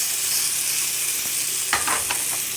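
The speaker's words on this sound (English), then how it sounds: "Let that keep searing." Surf and turf searing in a hot pan gives a steady, close broadband sizzle, with a few sharper crackles and scrapes partway through as the food is stirred and shaken around.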